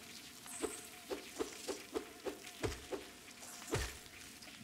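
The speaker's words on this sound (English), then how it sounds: "I hear a lot of bees." Bees buzzing in the game Hollow Knight, a faint insect drone under a regular series of soft thumps, like footsteps, with no speech.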